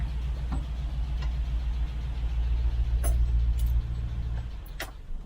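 A 1972 Range Rover engine runs steadily with a low, continuous droning rumble and a few faint ticking clicks, after a fresh cam and followers were fitted and a valve sat outside tolerances.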